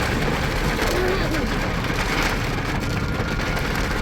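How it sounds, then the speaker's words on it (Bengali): Heavy rain pours steadily at Kharagpur railway station, a dense, continuous loud hiss and patter throughout with no clear pauses. "খুব জোরে বৃষ্টি হচ্ছে।"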